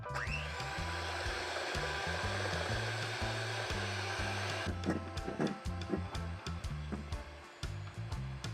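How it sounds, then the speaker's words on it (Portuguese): An electric hand mixer whips four egg whites to stiff peaks for a Christmas cake, giving a steady close motor whir that runs continuously, then breaks into uneven pulses and knocks of the beaters against the bowl over a low hum. "E agora eu vou bater as claras em neve"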